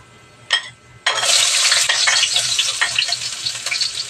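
Chopped onions hit hot oil in a pan for Filipino dinuguan, a brief clank first, then a sudden loud sizzle that settles into a steady, close frying hiss with light stirring scrapes.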